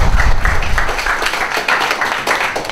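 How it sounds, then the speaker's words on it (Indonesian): An audience at an academic lecture on funeral liturgy claps for the priest who gave the talk, a dense, steady patter of many hands filling the room for a few seconds. "Mari kita tepuk tangan untuk Romo Hans."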